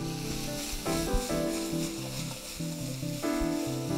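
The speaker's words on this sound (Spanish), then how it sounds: "Vamos a poner un toque más de Olmeca Light a este sartén." Olmeca Light tequila splashed into a hot frying pan while cooking orange chicken, giving a steady hissing sizzle beneath prominent background music.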